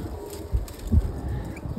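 Low pigeon coos and a brief flutter close by, a few soft calls over steady background hum.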